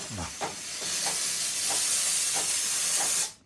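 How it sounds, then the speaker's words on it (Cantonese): A repaired Breville espresso machine's steam wand hisses loud and steady for about three seconds, with faint rhythmic ticks beneath the broad rushing steam before it cuts off abruptly. "講佢而家係開機 ready 嘅，講而家去開蒸氣。"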